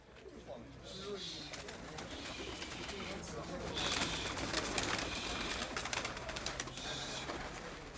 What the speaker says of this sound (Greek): Έτοιμα τα πουλιά, είναι όλα έτοιμα στη φόρμα. Ωραία περιστέρια, πολύ ωραία